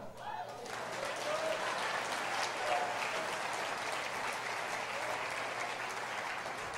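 A church congregation breaks into steady, full applause during a sermon, with a few voices rising within it. The sound holds at an even level for several seconds, heard from a moderate distance.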